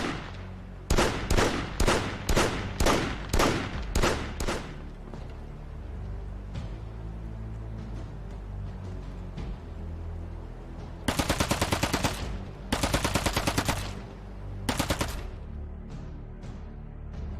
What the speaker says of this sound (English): Shooting full auto will really throw your weapon off.